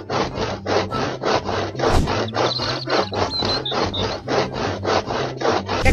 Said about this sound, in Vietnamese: Hôm nay mình sẽ đi cưa gỗ. Cái cây này được nè, cưa thôi.